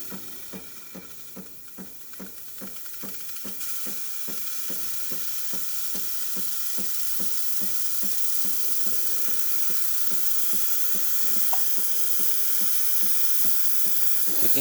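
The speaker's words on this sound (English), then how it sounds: "You can see machine is steaming correctly. Nice steady steam coming out through here." A Breville espresso machine's steam wand releases a steady, loud hiss of steam, with a regular pulsing rhythm from the pump underneath that grows stronger and holds even.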